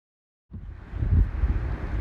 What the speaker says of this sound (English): our wind has picked up now